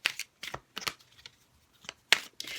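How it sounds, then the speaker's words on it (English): Wisdom of the Oracle deck cards being shuffled by hand, several quick crisp riffling bursts separated by short pauses, close and fairly quiet with no talking. "I always wonder why we shuffle when we could probably just go in and pull out a card"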